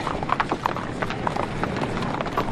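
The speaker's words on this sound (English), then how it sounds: "Where are you taking that horse?" Horse hooves clip-clop steadily on hard ground in a Western film scene, a quick, even rhythm of close, distinct hoofbeats running throughout with faint background ambience.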